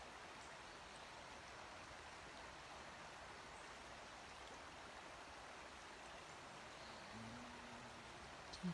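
A river flows steadily in the background, a soft continuous wash of moving water that stays low and even throughout with no talking.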